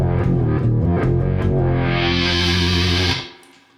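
Old Electro-Harmonix Micro Synth guitar effect producing a thick, buzzy synthesized guitar tone with a filter sweep rising into bright fizz, loud and close, holding for about three seconds before cutting off and fading.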